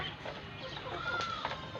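Native chickens on a small farm cluck softly at a moderate distance, with a brief higher call over a low background murmur and no clear talking.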